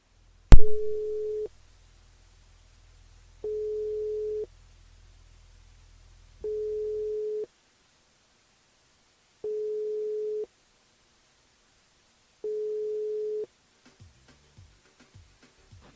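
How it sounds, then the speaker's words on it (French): A telephone ringback tone sounds while a radio station calls a listener, five evenly spaced steady beeps about a second long each, clear and alone after a sharp click at the start. "On appelle Yannick du côté de Saint-Paul."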